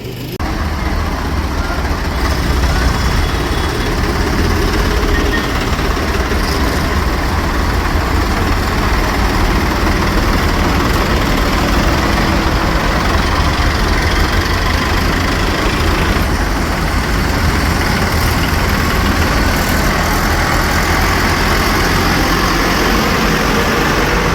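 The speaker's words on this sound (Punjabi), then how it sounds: "ਅਸੀਂ ਰੋਸ ਮਾਰਚ ਟਰੈਕਟਰ ਮਾਰਚ ਕਰਨ ਜਾ ਰਹੇ ਹਾਂ" Tractor engines idle at a farmers' protest tractor march against the farm bills, a loud, steady diesel rumble that fills the whole stretch without a break, with no clear talk above it.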